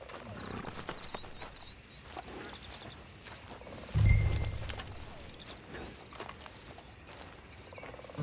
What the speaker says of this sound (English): Just get on the horse when you're good and ready,